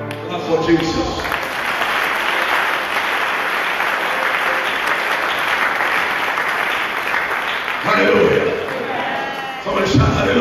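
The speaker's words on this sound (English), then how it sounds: "Clap for Jesus." Church congregation applauding during a sermon, a dense, sustained wave of clapping from a large crowd with some shouts, lasting about ten seconds.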